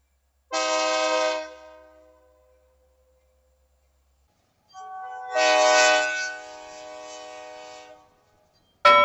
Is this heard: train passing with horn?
yes